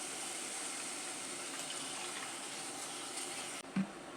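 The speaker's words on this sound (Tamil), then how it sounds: "தண்ணி எடுத்து இதில் சேர்த்துக்கலாம்." Water streams steadily into a pot of soaked, washed basmati rice as a continuous close hiss, then stops abruptly near the end with a brief knock.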